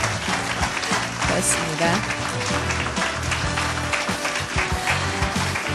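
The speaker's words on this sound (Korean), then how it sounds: "오늘 도움 말씀 주신 세 분께 다시 한번 큰 박수 보내주시기 바랍니다" Audience applause fills a hall at the close of a Korean public forum concert on national dementia policy, a dense steady roar of clapping lasting throughout, with someone speaking over it.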